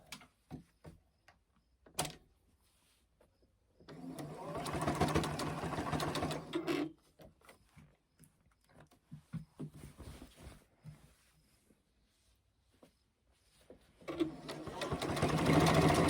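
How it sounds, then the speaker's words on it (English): Sewing machine stitching down the binding at a quilt corner in two steady whirring runs, one of about three seconds and one starting near the end, close by, separated by quiet handling clicks and taps. "I'm going to use a pin to hold it down while I sew that corner down."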